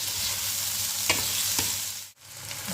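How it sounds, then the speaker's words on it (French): Slices of sausage frying in a pan give a steady, close sizzle, broken by a couple of brief stirring scrapes and a short dip in the crackle near the end. "Je vais ajouter mes rondelles de saucisses. Et on va les faire revenir à peu près 5 minutes."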